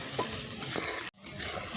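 Spices and a large rohu fish sauté in a pan for sidol, making a dense, close sizzle broken by stirring scrapes and a momentary gap before the hiss returns. No voices.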